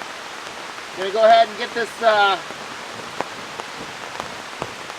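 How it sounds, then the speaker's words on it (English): Heavy rain patters steadily on a blue Home Depot tarp at a campsite in a rainstorm, a constant close drumming, while someone speaks briefly over it. "Rainstorm started showing up"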